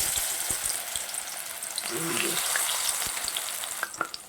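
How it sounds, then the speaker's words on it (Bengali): Sidol bora fritters made with ash gourd leaves frying in hot oil, a constant close bubbling sizzle with scattered pops and crackles throughout, no voices. "তেলটা গরম হয়ে আসছে, বড়াগুলা দিয়ে দিচ্ছি।"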